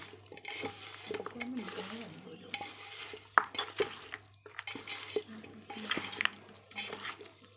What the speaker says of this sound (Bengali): মাংসটা যত মাখাবে তত টেস্ট হবে ভালো করে দিয়ে